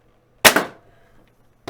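An Xshot Fury X toy blaster fires a dart through a chronograph, a sharp snappy pop with a short rattling tail, followed by a second pop at the end, close and alone.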